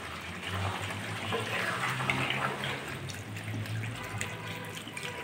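Water pours steadily into a pan of braising chicken and potatoes for a few seconds, a continuous splashing rush close to the ear with no one talking.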